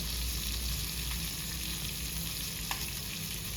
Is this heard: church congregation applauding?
no